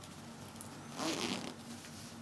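Metal zip on a pair of trousers being handled: a quick, close rasping zip pull lasting under half a second over a quiet room background.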